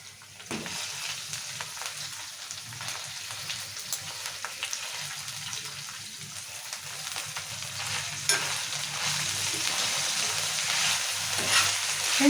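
Fenugreek leaves fry in hot oil for a tomato fenugreek curry, giving a steady, close sizzle and crackle that runs unbroken for the whole stretch and swells slightly toward the end.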